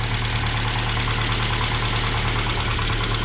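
Saab 900 SPG engine idles steadily after sitting about a year, a continuous close mechanical drone with a fast, even lifter tap ticking through it, no talk.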